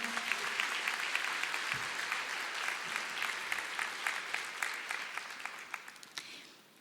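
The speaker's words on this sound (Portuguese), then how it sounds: "Pode aplaudir ao Senhor." A church congregation breaks into dense, sustained applause that fills the room evenly and then thins slightly at the end, with no clear voices above it.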